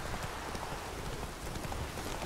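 Horse hooves clip-clop steadily in The Witcher 3 video game, an even rhythmic patter of steps heard alone over a dense noisy background.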